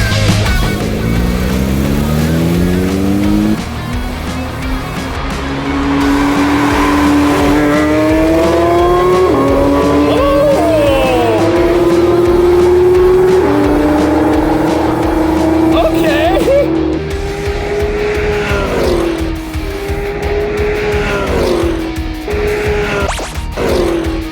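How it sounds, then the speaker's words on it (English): A Porsche GT3 RS and a Porsche Turbo GT SUV race on a track, high-revving engines climbing through repeated gear shifts, loud and close, with a commentator's voice over the engines. "最終対戦スポーツカー VS スポーツ SUV"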